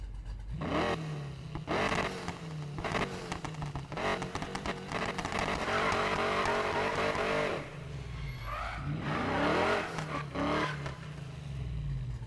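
A 1,000-horsepower car in the Need for Speed Payback racing game, its engine revving hard and rising in pitch, with brief tire squeal, loud and continuous.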